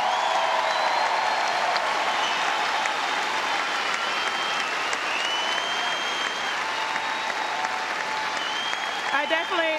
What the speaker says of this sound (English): she deserves an incredible round of applause.